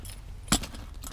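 Keys to a 2019 Ford F250 XL work truck jangle in one short, bright burst midway through a quiet moment, with a few fainter clinks trailing after.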